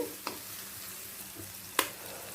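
Kasuri methi being stirred into onion, ginger and garlic frying in a pan, a quiet low sizzle broken by a couple of sharp spoon scrapes or clicks.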